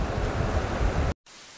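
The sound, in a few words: heavy rain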